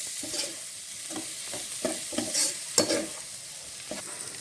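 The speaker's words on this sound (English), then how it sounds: "And give this a stir." Seafood soup being stirred in a pot, with a quiet run of soft scraping strokes and light sizzling bursts in an irregular rhythm, close up with no talk.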